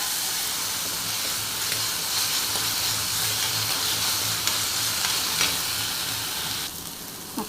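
Chopped tomato frying with onion in a pan for prawn curry, a dense continuous sizzle and hiss close by, a few faint scrapes, easing slightly toward the end, no speech.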